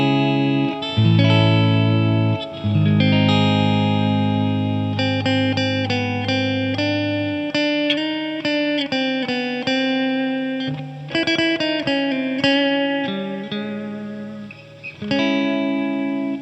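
A Hartwood Drifter electric guitar with P90 pickups plays through effects with ambient reverb: chords and single-note lines ring out loud and close for the whole passage, with sustained low notes early on and no voices.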